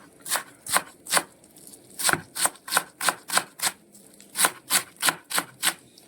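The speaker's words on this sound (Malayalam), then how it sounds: "അപ്പം നമ്മുടെ സ്പ്രിംഗ് ഒനിയനും സെലറി ലീവ്സും കൂടെ നമ്മൾ അരിഞ്ഞെടുക്കുവാണ്." Spring onion and celery leaves being chopped finely with a knife on a board for chicken fried rice, about fifteen crisp, evenly spaced strokes sounding close and clear with no voices.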